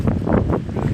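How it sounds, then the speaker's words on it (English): Wind buffets a microphone outdoors at a small downtown street protest, with a dense, low, continuous rumble and gusting roar filling the whole moment and no voices heard. "It's getting windy, so I'll probably cut this off."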